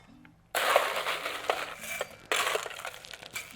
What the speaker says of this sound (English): Get some ice.